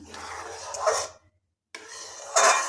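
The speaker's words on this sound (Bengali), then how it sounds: "এটা ভালোভাবে মিশিয়ে নিলাম" A spoon stirs homemade tomato sauce with a pinch of baking soda in a pot, giving two short bursts of scraping and clinking against metal, separated by a silent gap.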